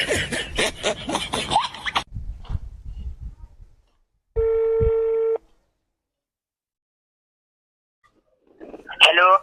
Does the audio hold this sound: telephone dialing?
yes